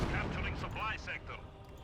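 Artillery barrage in Company of Heroes 2, a dense run of booming, crackling impacts rolling continuously for about two seconds under a commentator's voice.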